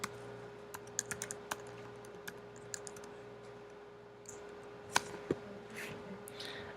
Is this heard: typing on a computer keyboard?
yes